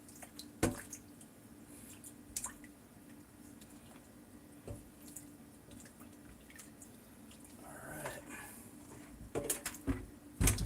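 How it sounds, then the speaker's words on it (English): Homemade butter rinsed in running water, with faint wet squishing and dripping at first, then louder splashy bursts toward the end. "You're rinsing out as much buttermilk as possible until your water begins to run clear."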